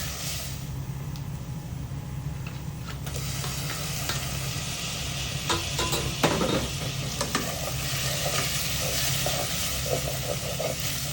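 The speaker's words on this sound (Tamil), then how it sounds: "பிறகு கொஞ்சம் கருவேப்பிலை இடிச்ச இஞ்சி பூண்டு பேஸ்ட் ஒரு நறுக்கிய தக்காளியையும் சேர்த்து வதக்கலாம்" Curry leaves, crushed ginger-garlic paste and chopped tomato sauté in a pan for Chettinad chicken curry, giving a steady close sizzle broken by occasional stirring scrapes, with no voices.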